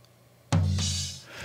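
A single tom drum hit with much of its low end removed by EQ, close and fairly loud, with a bright attack and a ring that fades over about a second.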